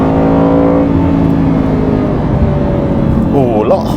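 An Aston Martin Vantage S engine revs hard to about 7,070 rpm in second gear and climbs in pitch, then settles into a steady drone; a voice speaks briefly near the end.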